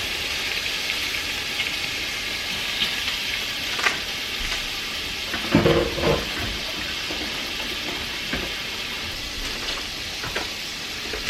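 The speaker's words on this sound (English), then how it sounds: "Literally going to take 30 seconds to sear it on each side." Shrimp and salmon sear in a hot pan with a steady, moderate sizzle, broken around the middle by a few louder spits and crackles as the pieces shift.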